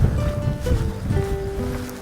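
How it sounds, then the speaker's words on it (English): A mountain river fed by snowmelt in the Picos de Europa rushes steadily along a hiking trail. Faint whistling tones sit above the even flow. "We come to this river now"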